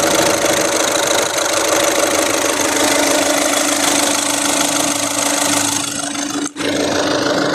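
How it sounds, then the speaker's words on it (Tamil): A Volkswagen Vento Highline engine idles with the mic held close, a loud steady mechanical hum with a faint ticking rhythm, briefly dipping near the end as if bumped. "இப்போ இன்ஜின் நாய்ஸ் நான் எப்படி இருக்குன்றத மைக்கை பக்கத்தில் வச்சு காட்டுறேன்,"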